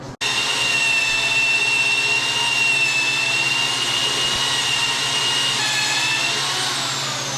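Larger drill boring a hole through a metal plate, a loud steady high-pitched whine that runs unbroken for several seconds after a quick start, close up and alone.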